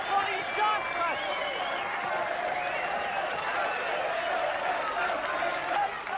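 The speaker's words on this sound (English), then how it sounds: "Applauded!" Darts match crowd at the 1984 World Darts Championship semi-final applauds steadily and loudly for the full stretch, a dense sustained roar of clapping with voices mixed in.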